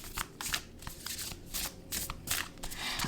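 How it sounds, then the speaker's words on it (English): A deck of oracle cards being shuffled by hand, a steady run of crisp riffling and flicking bursts close up, with no talking. "And I'm just gonna keep shuffling again."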